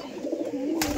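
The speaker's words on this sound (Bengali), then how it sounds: "তিন ভাইয়ের কবুতর খামার সুন্দর সুন্দর কবুতর আছে" Pigeons at a pigeon farm give a brief, close, low cooing with a soft bright rustle at the very end.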